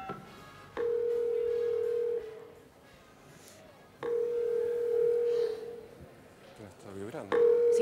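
Mobile phone on an incoming call giving long steady tones, each about a second and a half, with gaps between them, under voices talking.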